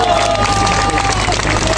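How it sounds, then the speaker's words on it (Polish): Crowd at a Warsaw street march against Act 447 applauds and cheers loudly and steadily throughout, a dense outdoor wash of clapping with a voice over a loudspeaker faintly on top. "Brawa, brawa, proszę państwa."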